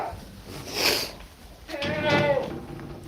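Goats bleat on a farm shrouded in smoke from burning paddy straw, with two drawn-out, wavering calls standing out close by over a low background.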